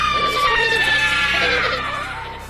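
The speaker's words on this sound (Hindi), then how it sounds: "चुड़ैल को देखकर सभी यात्री चिल्लाने लगते हैं।" Aeroplane passengers screaming in a Hindi horror cartoon, a dense, loud chorus of high shrill cries that fades slightly toward the end.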